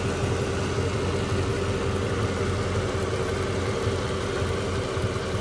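A Mercedes SL500 engine idles steadily with a constant, even drone and low rumble throughout, close by and alone with no talking.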